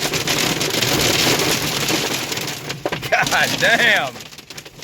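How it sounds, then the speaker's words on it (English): Hailstones hammer a Cummins pickup truck, a loud, dense rattle of impacts close by that eases slightly near the end, while a man curses briefly over the drumming. "Well, now we're getting hail."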